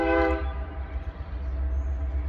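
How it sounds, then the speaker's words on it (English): A passing train sounds its horn, a loud harmonic blast that stops after about half a second, leaving a heavy, continuous low rumble of the rolling train. "We got a little interference with the train, if you don't mind."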